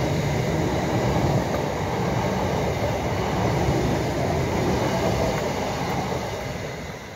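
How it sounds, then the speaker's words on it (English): A train passes close by outdoors, a steady loud rolling rumble with rail noise that holds for several seconds and eases slightly at the end, with no talking. "Let the train go by."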